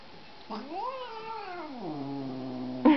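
A house cat lets out one long, drawn-out meow that rises and then sinks into a lower, grumbling tone, close by, with a second short cry starting at the end.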